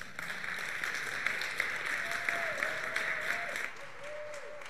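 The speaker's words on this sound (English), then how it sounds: "can we get one more round of applause for Dominic Farinacci's Tri-C Jazz Academy" Audience applause for a jazz academy ensemble at a live event, a steady wash of many hands clapping at moderate distance with a few sharper claps standing out and a faint tonal sound sliding beneath.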